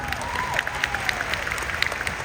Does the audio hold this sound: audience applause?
yes